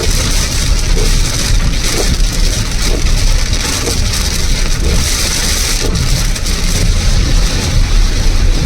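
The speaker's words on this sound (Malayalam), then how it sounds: "ഭയങ്കര മഴ, കണ്ണ് കാണാൻ വയ്യാത്ത മഴയായി പോയി." Heavy rain pounds steadily on a moving car, a loud dense roar with an engine droning underneath.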